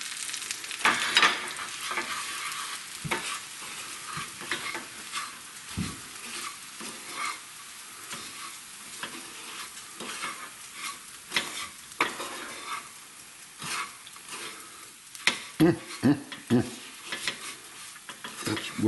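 A small wooden spoon scrapes and stirs in a pan of sizzling olive oil on the stove, with irregular close knocks and scrapes and no talking.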